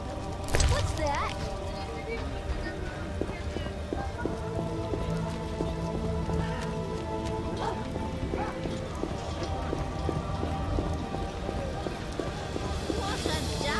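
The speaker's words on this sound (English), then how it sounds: "What a downpour!" Heavy rain pours in The Witcher video game, a dense, steady wash of downpour that fills the scene, with clopping horse hooves and other in-game background sounds mixed in.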